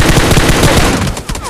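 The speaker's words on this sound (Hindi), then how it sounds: "छोटी वाली गन से मारा।" Small gun fired in a video game: a loud, fast burst of rapid rhythmic shots lasting about a second, close and dominant, then trailing off.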